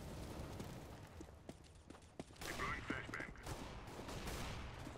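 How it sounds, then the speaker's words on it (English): Gunfire in the CS:GO shooter game, including a sniper rifle shot, with several sharp cracks scattered over a noisy in-game background and a louder stretch of action midway, while a player talks. "Oh, he sniped me!"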